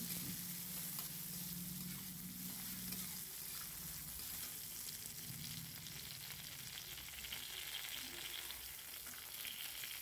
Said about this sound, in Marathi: 2 ते 3 मिनिट हा कांदा आपण चांगला परतून घेणार आहोत।